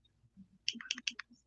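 Rapid keyboard typing clicks, a quick cluster of about five crisp taps close by over a faint low hum.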